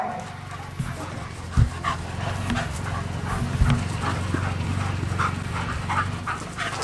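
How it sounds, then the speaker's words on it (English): Dogs barking and yipping in the distance over a steady low drone from a DJI Mavic Pro Platinum, with a couple of louder thumps. "Got a pack of dogs."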